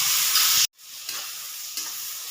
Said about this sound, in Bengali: ভালো করে রসুনটা আর পেঁয়াজটা কষিয়ে নিই